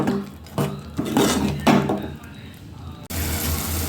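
A spoon knocks and scrapes against a pan a few times as shrimp is mixed into masala for sambar, the irregular clatters close and fairly loud, with a brief voice in between.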